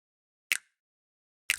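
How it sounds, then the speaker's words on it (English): Two dry snap samples for a dance track, with no reverb, about a second apart, each a sharp, close, isolated click separated by silence. "This snap sound without the reverb sounds like this."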